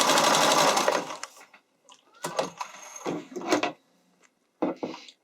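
Sewing machine running a zigzag stitch along a lettuce-edge hem on spandex for figure skating dresses, a close, fast mechanical whir at the start, then short stop-start bursts of stitching and clicks with silent gaps.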